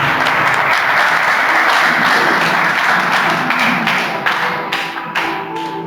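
Audience applause at a Christmas party held at a home for special children, a loud, dense wash of clapping that stays steady and then thins slightly toward the end, with no talking over it.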